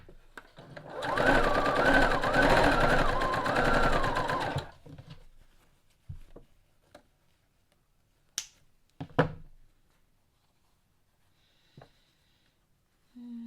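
A sewing machine stitches fabric strips for a string-block quilt in a rapid whirring burst of about four seconds, followed by quiet handling clicks and a few faint snips.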